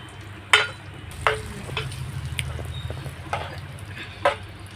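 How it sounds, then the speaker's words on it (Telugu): Tempering with curry leaves being stirred into Guntur-style gongura raw dal curry, a low steady sizzle under a handful of sharp spoon scrapes and clinks against the pot, with no one talking. "తాలింపు ఇలా యాడ్ చేసుకొని కలుపుకోవడమేనండి"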